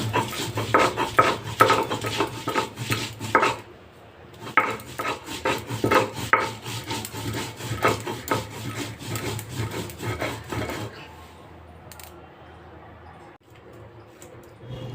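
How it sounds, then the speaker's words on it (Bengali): Spices ground dry, with no water, on a stone shil-nora slab for a tangy kul (jujube) mix; close, steady scraping and rubbing strokes for several seconds, pausing briefly near four seconds and fading after about eleven seconds. "এবার সবগুলোকে বেটে নেব আর এটাকে শিলনোড়াতেও তোমরা বেটে নিতে পারো"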